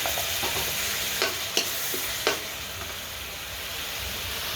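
Thai curry paste stir-frying in a pan, a steady broad sizzle running throughout with a few brief sharp clicks of a utensil scraping the pan.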